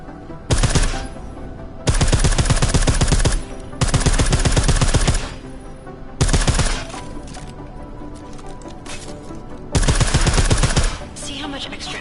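Suppressed gunfire in Deus Ex, several long rapid bursts of muffled automatic shots separated by short quiet gaps, fairly close and steady.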